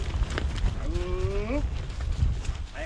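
An ox lows on a farm on a rainy day, one drawn-out, rising moo in the middle, heard over steady rain-like noise, with a voice calling out nearby.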